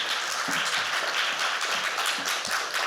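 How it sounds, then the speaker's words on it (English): Warm audience applause welcoming a speaker at an Eastern European diaspora storytelling event, a sustained patter of many hands clapping at moderate volume, with a few low thumps and murmurs underneath. "please give her a very warm applause, Veronika."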